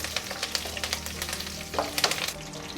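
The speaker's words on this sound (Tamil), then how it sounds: "2 கொத்து கருவேப்பிலை எடுத்து வச்சுருக்கேன், அதையும் சேர்த்துட்றேன். அந்த எண்ணெயில மிக்ஸ் பண்ணிவிட்டு" Curry leaves frying in hot oil crackle and sizzle up close while a utensil stirs through the pan with soft scraping clicks and a few sharper spits.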